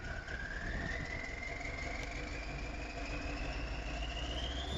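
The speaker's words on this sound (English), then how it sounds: "I left this big brute of a tractor hooked up to this plow" A big tractor's engine runs steadily in Farming Simulator 19, a constant low rumble with a whine that climbs slowly in pitch as it revs up. It sounds close and loud, and no one talks.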